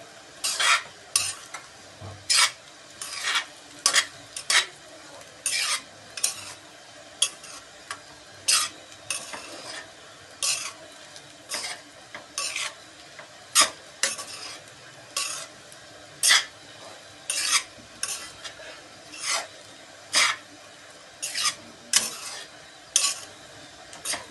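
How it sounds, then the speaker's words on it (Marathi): Sabudana khichdi being mixed in a pan: regular, evenly spaced scraping strokes of a spoon against metal over a soft background sizzle, close and steady, no talking. "आता हे छान मिक्स करून घेऊया"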